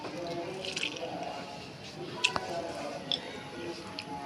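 Soaked tamarind pulp is squeezed hard by hand, giving soft wet squelches and a few small drips and taps, close and fairly quiet.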